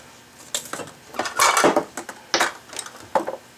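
A spoon clinks and scrapes against a mixing bowl while pumpkin muffin batter is stirred, a run of sharp, close metallic taps and scrapes in uneven bursts.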